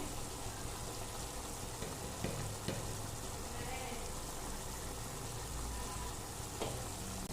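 Sizzling mutton curry in a village-style kitchen is stirred after chili powder goes in, giving a steady, soft frying hiss with occasional scrapes and clinks of the spoon.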